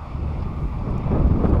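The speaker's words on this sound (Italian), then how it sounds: "Il vento non si è calmato, non si capisce da dove viene" Wind blows across the steppe in a steady low rumbling roar buffeting the microphone, loud and continuous, with no voices.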